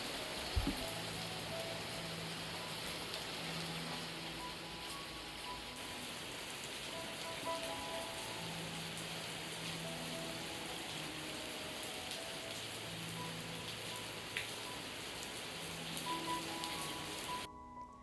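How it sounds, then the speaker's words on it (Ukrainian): Sudden summer rain patters steadily on surfaces, a soft, even drizzle of drops at a gentle, fairly quiet level, with faint tonal hums in the background and no talking. "Раптово у нас пішов дощик, якого не було в прогнозі"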